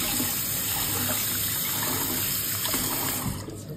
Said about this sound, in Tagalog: So, I will do it again.